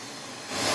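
A hot air rework station blows at 450°C on 70% airflow over a faulty Xbox One controller board, a steady broadband hiss that swells louder near the end of a very short burst.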